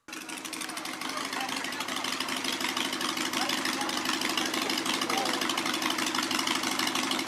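A motorcycle engine idles steadily throughout, a continuous low rumble with a constant mechanical hum and no revving, recorded close by on a film set.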